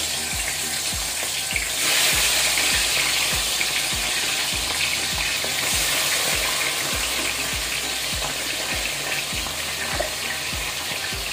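Galunggong fish frying over a low flame, a steady close sizzle with soft spatter and rhythmic stirring or scraping clicks throughout, no voices.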